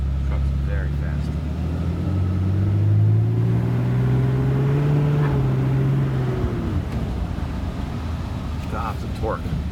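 A 2011 Ram 2500 Laramie Longhorn Edition with a Cummins turbo diesel, catalytic converters removed and EGR deleted, drives with a loud, steady low rumble. Its engine pitch rises and then falls away, and a voice talks over it.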